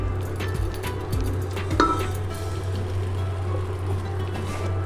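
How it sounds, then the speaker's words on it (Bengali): Chow mein being stirred inside a rice cooker: soft wet squishing and a few light clinks of the utensil against the pot over a constant low hum. "ভালো করে নেড়ে নিচ্ছি।"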